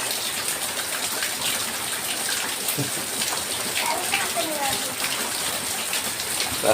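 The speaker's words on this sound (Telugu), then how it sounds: "ఇదిగో జలపాతం వచ్చేసింది" Water pours and gushes steadily like a small waterfall, a constant splashing rush close by, with a faint voice briefly under it.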